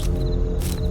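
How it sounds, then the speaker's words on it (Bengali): Crickets chirp at night in an animated story scene, a steady high trilling over a constant low hum, brief and unbroken. "ঝিঝি পোকার ডাক শোনা যায়।"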